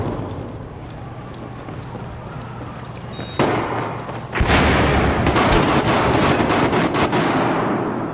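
In the Battlefield 4 video game, gunfire starts as quieter distant shots, then erupts into loud, dense, sustained automatic fire and heavy bursts that continue to the end with no talking.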